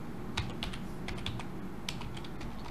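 Code being typed on a computer keyboard in short irregular bursts of key clicks, close and clear over a steady low hum, with no talking.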